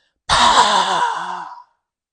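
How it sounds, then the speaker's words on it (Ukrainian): A single sharp, forceful breath expelled through the mouth during a kundalini yoga breathing exercise, loud and close, starting abruptly and tapering off over about a second and a half, with no talk. "робимо різкий пушечний видих через рота"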